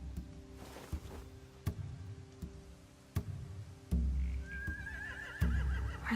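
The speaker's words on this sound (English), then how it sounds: "They have horses." Horses in a post-apocalyptic video game whinny once, a rising, wavering neigh over a low ambient hum, with soft periodic thuds and clicks throughout.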